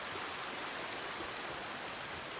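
Waterfall in Ghost of Tsushima, a steady soft broadband rush of falling water, continuous and faint, with no other sounds over it.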